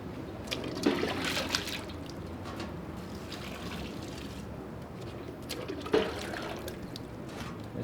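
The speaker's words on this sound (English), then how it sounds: "Start adding your water, hot water to it." Hot water is poured onto grain in a cooler for home brewing, a continuous trickling, splashing flow with a couple of sharper knocks, close by and moderately loud.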